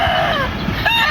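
A bullstag rooster, white with black wings, crows close and loud in a backyard in one short drawn-out call.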